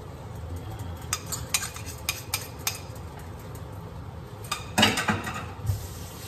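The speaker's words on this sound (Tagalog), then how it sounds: "Lagyan na natin itong itlog, mga kababayan ko." Egg stirred into sautéed eggplant in a pan, with a steady low sizzle under scattered clinks and scrapes of a utensil against the pan and one louder clatter near the end.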